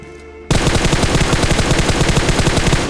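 Rapid automatic gunfire from a mobile battle royale video game, a loud sustained burst of evenly spaced shots that starts abruptly after a brief quiet moment and runs on without pause.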